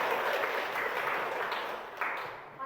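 Children in a classroom clap together, a bright, even burst of applause that holds steady and then tapers off near the end.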